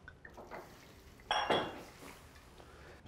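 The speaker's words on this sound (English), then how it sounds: "all we're going to do is take the oysters, throw it right into your pan" Oysters are tossed into a hot pan, giving a short clattering splash and clink midway through against a quiet kitchen background, followed by a soft simmering wash.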